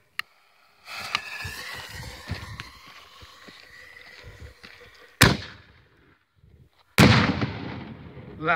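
A Silver Dragon artillery ball firework shell launches with a hissing rise, then two loud, sharp bursts crack outdoors several seconds apart, each followed by a decaying rumble and crackle.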